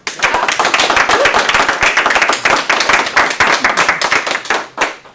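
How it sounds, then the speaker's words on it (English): A small audience at a 1 Million Cups entrepreneur meetup in Cedar Valley gives the presenter TJ a final round of applause: loud, close hand claps in a brisk continuous patter that stops abruptly near the end. "Let's give one last round of applause for TJ."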